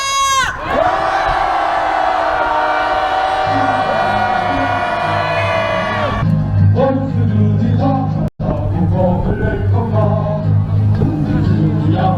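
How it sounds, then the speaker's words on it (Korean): A crowd at a protest performance roars a long, loud collective shout of anger, one sustained swell that breaks into ragged bursts of chanted yelling and cries near the end. "양금덕 할머니와 윤석열 정부와 일본 정부를 향한 분노의 함성 시작!"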